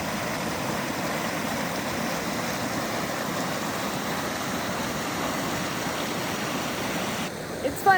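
A backcountry creek in Idaho runs steadily beside an off-grid yurt, giving a constant, even rush of water at moderate distance across the whole stretch, with a couple of brief knocks close by near the end.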